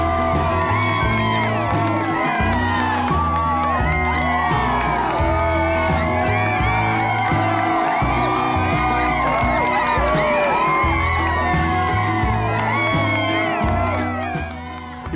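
A crowd gathered at an airport cheers and shouts, with many overlapping excited voices, whoops and calls above a steady rhythmic music bed, loud and continuous throughout before easing slightly at the end.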